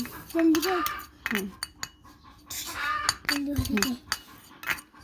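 Vegetable bhaji cooking in oil in a pan, heard as irregular metal utensil scrapes and clinks against the pan, in short bursts separated by quieter gaps at close range.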